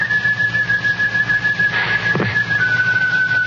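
A lone person whistles a tune in a thin, clear, sustained tone, fairly close, with no talking alongside.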